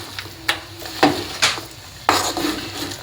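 Jaggery filling for holige being stirred in a pan, irregular scraping and knocking strokes of a utensil against the pan with a faint sizzle between them.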